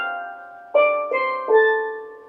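A steel pan improvises a short rhythmic variation on a melodic phrase: a sustained ringing note, then three more struck notes in quick succession, each blooming and decaying with a metallic shimmer, close and alone.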